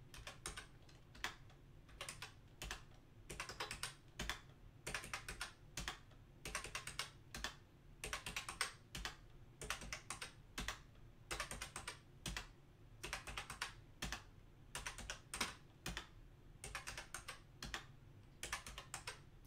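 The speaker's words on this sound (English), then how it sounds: "I'm just typing it out real quick." Fast typing on a computer keyboard, with irregular bursts of close, crisp key clicks and short pauses over a quiet background hum, with no speech.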